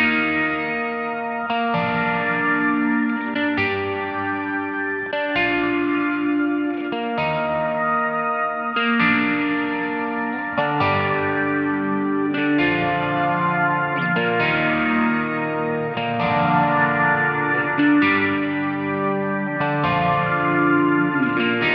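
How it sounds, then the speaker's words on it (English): Electric guitar through a Lowrider pedal with slight phasing and Source Audio Collider shimmer reverb strums a steady chord progression, thick and driven with a washy, sustained tail throughout. "we had a tiny bit of phasing going on from the Lillian phaser and a shimmer verb from Source Audio"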